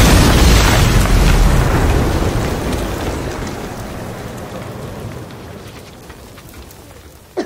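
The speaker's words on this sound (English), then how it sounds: "at the beginning of the movie, there's this major explosion" A huge movie explosion booms through SVS Ultra Tower and Center speakers, a dense roaring rumble that slowly fades over several seconds into a crackling debris-like wash.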